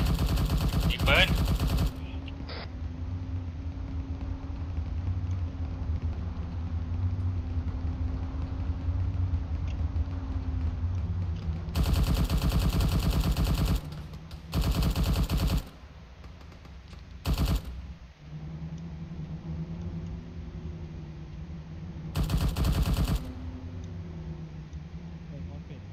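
Bursts of automatic gunfire ring out in the ArmA 3 military game, several loud, sharp volleys separated by gaps, with a vehicle engine humming underneath and voices talking over the action.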